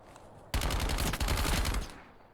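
Rapid automatic gunfire during a slide in the first-person shooter Call of Duty: Warzone, one dense, loud burst of about a second and a half that begins abruptly and then cuts off.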